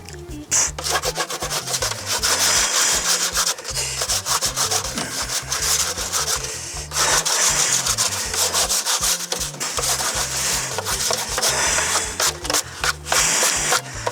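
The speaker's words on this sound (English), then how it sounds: "turn it around, burnish the other side" A wooden spear shaft is burnished by hand, producing loud, continuous rasping and rubbing strokes in a fast back-and-forth rhythm with brief pauses as the tool shifts, close up and alone.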